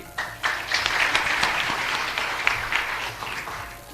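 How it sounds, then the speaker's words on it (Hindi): Audience applause at a Ramayana quiz competition event, a continuous moderately loud wash of many hands clapping for about four seconds, slightly distant. "जोरदार ताली"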